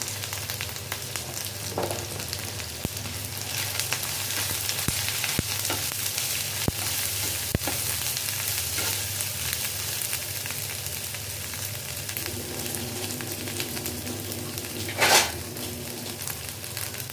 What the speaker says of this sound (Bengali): আমার মশলাটা কষানো হয়ে গেছে বন্ধুরা